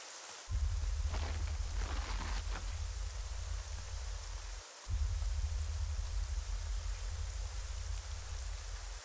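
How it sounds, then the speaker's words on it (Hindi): Heavy rain pours down in a Hindi-dubbed South Indian film scene. A dense, steady hiss of rainfall carries on with a low rumble beneath it, briefly dipping once before resuming just as strongly. "बारिश बहुत तेज हो रही है"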